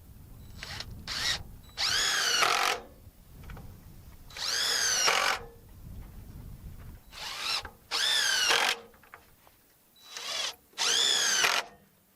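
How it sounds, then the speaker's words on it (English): A power driver with a star bit whines in several short bursts, each rising in pitch as a screw drives home, with quiet pauses between. "I got a little star bit here on my drill, and or I should say my driver"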